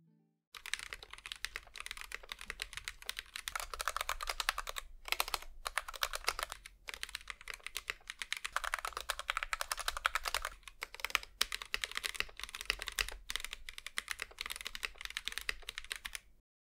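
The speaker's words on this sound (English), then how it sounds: "here's how the keyboard sounds now" Steady typing on a modded Womier K87 mechanical keyboard, dense clacky keystrokes at a brisk pace with a few short pauses, close and clear, no voices.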